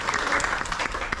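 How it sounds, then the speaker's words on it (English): Audience clapping to greet a master glassblower from Murano at a Venetian glassblowing demonstration, a short burst of scattered applause heard at a moderate distance. "Please clap your hands."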